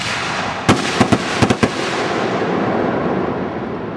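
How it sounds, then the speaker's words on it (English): Backyard fireworks launched in quick succession, with about six sharp pops in under a second over steady outdoor background noise. "I'm going to shoot one, and as it's rising, I'll shoot the other one."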